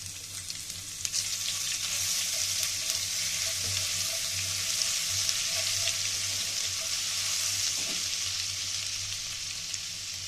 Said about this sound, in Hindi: अब इसमें लहसुन शामिल करते हैं।